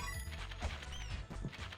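Horse enemies in the video game La-Mulana make a dense burst of clattering, hoof-like game effects over layered music, continuous and loud for a couple of seconds.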